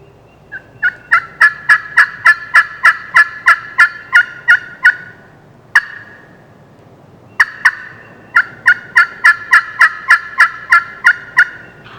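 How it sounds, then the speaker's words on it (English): A wild turkey gobbler calls loudly and close by in the spring woods, giving two long runs of rapid, evenly spaced notes separated by a brief pause. "Luckily, the gobbler answered those crows because he was really close."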